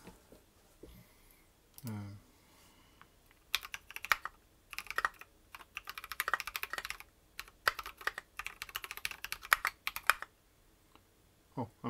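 Typing on a Duck Viper v2 mechanical keyboard fitted with Nixie switches: rapid, close clicky keystrokes in bursts, with a short spoken remark before the typing begins.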